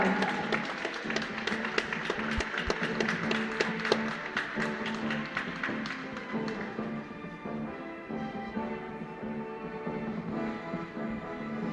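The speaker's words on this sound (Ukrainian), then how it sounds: "Ще раз привітаємо оплесками!" Applause for young girl figure skaters at an award ceremony, a steady patter of many hands clapping over background music, strongest early and slowly thinning.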